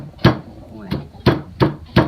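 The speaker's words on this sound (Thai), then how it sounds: "ตำบักถ้าเผ็ดก็ต้องตำบักเผ็ด กับกระเทียมโอ้เสียง สนั่นหวั่นไหว" Chili and garlic are pounded in a mortar with a pestle: five sharp, regular thuds roughly every third of a second, close and loud, with faint sounds between strikes.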